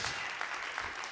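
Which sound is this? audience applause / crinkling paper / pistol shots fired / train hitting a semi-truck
audience applause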